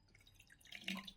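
Water poured into a Wonder Chef electric multi-cook kettle: a faint, brief trickle and splash that swells near the end, with no voices.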